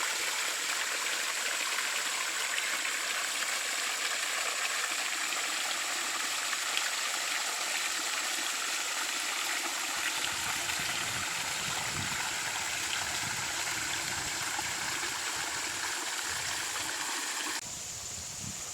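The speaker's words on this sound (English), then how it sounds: "This is the waterfall below the pond." A waterfall spilling below a pond on a rural Virginia property, a steady close rushing of water with a low churning undertone that holds evenly for the whole stretch, with no voices.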